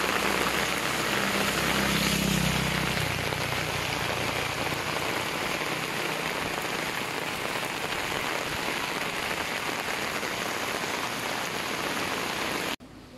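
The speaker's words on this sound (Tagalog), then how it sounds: "tapos ngayon biglang ulan, ang lakas pa ng kulog" Heavy rain pours steadily during sudden bad weather in Masbate, a loud, dense hiss that runs without a break, with a low rumble under it in the first few seconds.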